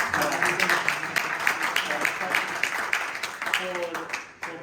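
A gathering in Cartagena gives Óscar a round of applause, a steady crackle of many hands clapping at moderate volume with voices mixed in underneath.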